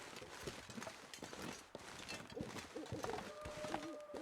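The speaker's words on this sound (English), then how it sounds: "not just the wind, but also like the birds and all that" Ambient birds in The Long Dark video game call softly and repeatedly over a low background, with light chirps and coos scattered throughout and no speech.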